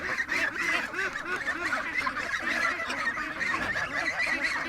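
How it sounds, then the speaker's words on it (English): A crowd of Chinese geese honks repeatedly and loudly close by, the harsh calls overlapping without pause. "Yeah, we got a goosely too. And he's a Chinese goose too"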